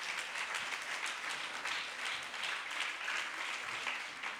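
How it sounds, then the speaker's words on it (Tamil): Audience at a Tamil stage performance applauding student performers, a continuous even patter of many hands clapping at a moderate distance, steady for several seconds without voices. "இந்த மாணவர்களுக்கு அவையினரிடமிருந்து ஒரு பலத்த கரகோஷங்களை எதிர்பார்க்கின்றோம்."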